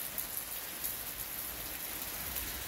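Heavy rain pours down outside a house in a dense, steady hiss that holds even from start to finish, with no voices.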